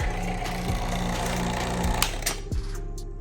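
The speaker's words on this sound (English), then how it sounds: "What we're going to do is turn off the vacuum pump" A vacuum pump runs on the AC system of a 2009-2012 Nissan Xterra, giving a steady buzzing mechanical drone close by with a few light knocks and clicks.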